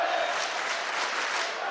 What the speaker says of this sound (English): crowd just getting more and more fired up by the moment